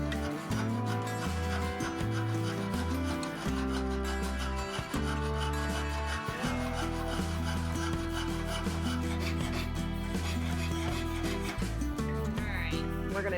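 A jeweler's saw blade cuts through a metal Mandalorian shoulder piece, a fast, continuous rasping rub carried on without pause, loud and close, with a tonal hum running underneath.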